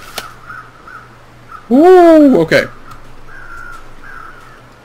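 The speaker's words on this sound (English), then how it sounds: "I wonder if you can shoot a crow out of the sky." A crow cawing in the survival game The Long Dark: one loud, harsh caw near the middle, with fainter calls before and after and a person briefly speaking.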